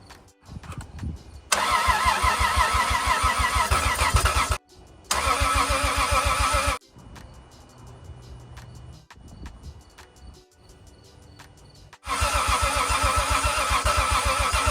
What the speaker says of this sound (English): So the car is trying to start,